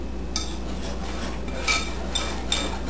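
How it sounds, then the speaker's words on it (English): A wire whisk stirs cinnamon and baking powder into flour in a mixing bowl for carrot cake, giving a steady soft scraping with a few light metallic clinks against the bowl. "So I'm just going to use a whisk to combine this with the flour."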